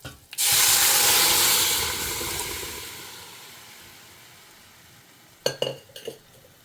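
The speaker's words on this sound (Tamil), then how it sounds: "ஸோ கடுகு பொரியட்டும்." Mustard seeds splutter and hiss as they hit hot oil in a pan, with a loud burst of sizzling that slowly fades, followed near the end by a few sharp clinks of utensils.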